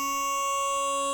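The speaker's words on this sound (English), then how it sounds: "there's a phaser, which is an effect that sounds like this" Synth in FL Studio run through a phaser effect, a short sustained steady tone with a slowly shifting sweep, heard alone and fairly quiet.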